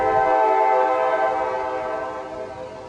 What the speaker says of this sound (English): Have to ignore the train for a minute.